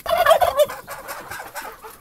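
Bourbon turkeys gobbling nearby, a loud rapid burst of warbling gobbles at the start followed by fainter overlapping calls from the flock, with no talk.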